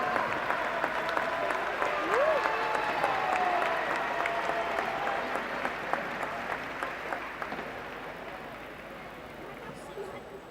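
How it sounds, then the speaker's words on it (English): Spectators at an indoor hockey tournament give a round of applause for the technical officials, a sustained wash of clapping with scattered sharper claps, slowly easing off as an announcer and crowd voices carry on over it. "here they are, please round of applause"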